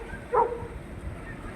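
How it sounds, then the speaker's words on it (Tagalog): A dog gives a single short bark at a distance outdoors near a ferry landing, heard once early and then fading into faint ambient noise. "Siguro may hinihintay yung aso na yun."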